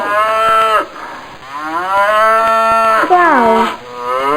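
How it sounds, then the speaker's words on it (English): A cow lows loudly and close by, drawing out long, deep moos that rise and fall in pitch, heard alone without any talking. "Cow."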